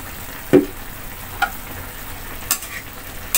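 Chicken adobo being stirred in a pot: a few distinct scraping knocks of a spoon, around four spaced strokes, over a faint steady simmering hiss, close up and without speech.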